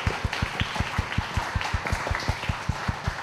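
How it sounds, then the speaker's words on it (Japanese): An audience at a conference session claps together in a steady, even rhythm of sharp hand claps, moderately loud and close, with no talking over it. "はい、皆さん拍手"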